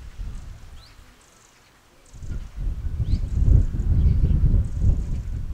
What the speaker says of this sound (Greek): Ακούγεται και ο αέρας.